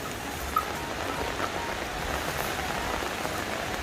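Steady rain patters on a surface, a dense even hiss of drops that continues throughout.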